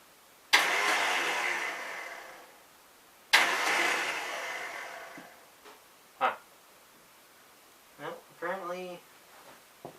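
The starter motor on a 1968 Gravely 430 tractor whirs loudly in two bursts of a couple of seconds each, fading out each time, then someone speaks briefly.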